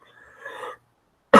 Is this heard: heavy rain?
no